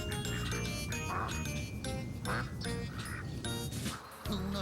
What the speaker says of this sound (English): The ducks need a clean pond to paddle around in.